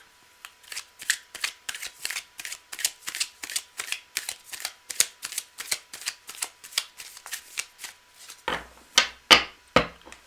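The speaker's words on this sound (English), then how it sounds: "Cards are well shuffled." A deck of tarot cards is shuffled in a steady run of quick riffling bursts, close and crisp, ending in a few louder, heavier shuffles.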